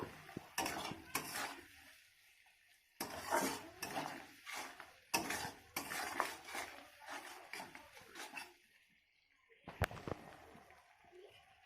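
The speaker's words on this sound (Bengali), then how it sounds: "আর মশলাটাকে এভাবে আমি আঁচ কমিয়েই কষাতে থাকবো।" Chili paste masala sautéed on a low flame for a lote (loita) fish dish. Close, intermittent scraping and clinking of a spatula against the pan comes in rhythmic bursts, with a faint sizzle between the strokes.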